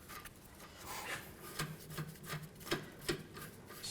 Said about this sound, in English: just take the tie rod in and just count the turns